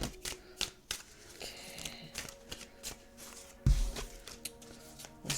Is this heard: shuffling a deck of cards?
yes